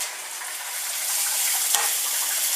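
Onions laid into a hot pan sizzle steadily, a bright, close frying hiss that swells slightly partway through, with no talk.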